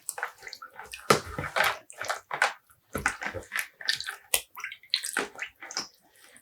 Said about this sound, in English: I push down the yarn to make sure everything gets properly soaked.